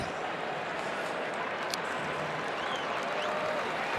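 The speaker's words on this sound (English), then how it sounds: "And gets a round of applause from the folks here in Knoxville." College football stadium crowd in Knoxville applauding an injured Georgia player, a broad distant wash of clapping and crowd noise, steady and even, with faint voices mixed in.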